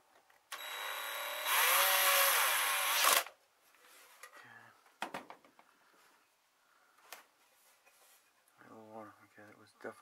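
A power drill driving micro screws on a dropped DVD player, with one loud, steady whirring burst of about three seconds up close, followed by small clicks, handling noises and brief speech.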